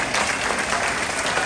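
A crowd at the Okie Homesteading Expo claps in loud, dense, steady applause that is close and fills the whole brief moment.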